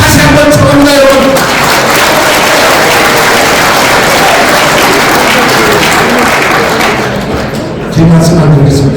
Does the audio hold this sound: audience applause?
yes